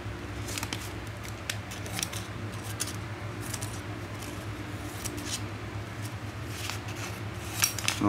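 Black, original 21 cm pruning shears snipping through a sheet of paper, a series of short crisp clicks and snips at irregular intervals over a low steady background hum, close to the microphone, no talking.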